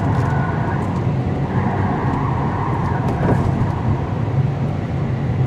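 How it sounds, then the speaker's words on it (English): A 2021 Kia Seltos SX Turbo AWD rumbles steadily through a tight turning circle, a continuous engine and road-noise drone from inside the cabin, with faint muffled voice underneath. "So let's take it on the turning circle and see if the all-wheel drive makes it stick like glue"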